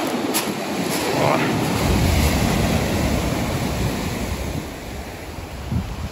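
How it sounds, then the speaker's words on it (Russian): Stormy sea waves crashing and rushing onto a Sochi beach, a loud, dense roar that swells and ebbs, with wind buffeting the microphone and someone talking briefly over it. "Вон волна идет, да. Смотрите, какая."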